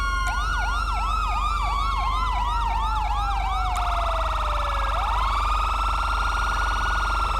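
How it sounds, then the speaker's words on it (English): Loud electronic police sirens from a GTA roleplay server wail in overlapping rapid yelps, then shift to a single slower rising and falling tone, sounding synthetic and game-like. "Now you have 2 sirens."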